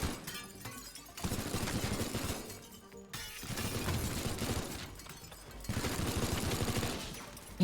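Rapid gunfire in the video game Teardown, dense crackling bursts of shots and shattering impacts coming in waves, loud and continuous across the scene with brief lulls between volleys.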